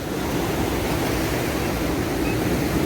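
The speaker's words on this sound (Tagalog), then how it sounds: "Oh, ang lakas ng alon." Strong ocean waves break at Kata beach in Phuket, Thailand, as a steady, loud wash of surf close by, with no voices.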